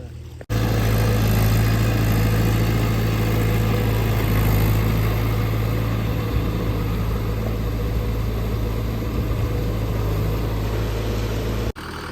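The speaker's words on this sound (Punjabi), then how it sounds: "ਫੇਰ ਕੱਦੂ ਵਾਲਾ ਜਨਰੇਟਰ ਲਾਉਣਾ ਹੀ ਪੈ ਗਿਆ" A generator engine runs steadily and loudly with a constant low drone, starting abruptly and cutting off near the end.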